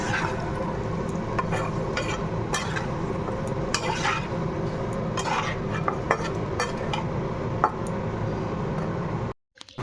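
Pointed gourd (potol) frying in a pan while being stirred, a continuous close sizzle with repeated scraping and clinking of a spatula against the pan, cutting off abruptly at the end.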